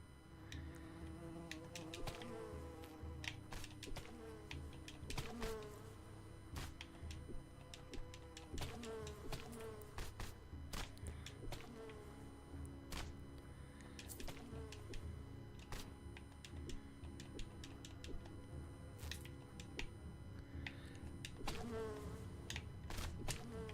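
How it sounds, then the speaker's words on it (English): Swarming bees in the video game Pale Coins drone with a continuous insect buzz, laced with repeated sharp clicks and thuds from combat across the whole stretch. "They are bees."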